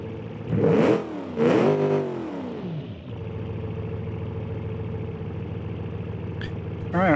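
A sports car engine in the game BeamNG Drive revs hard twice in quick bursts, then settles into a steady growling idle, with a brief click near the end.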